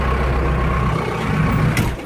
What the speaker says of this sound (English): Cummins engine, turbocharged.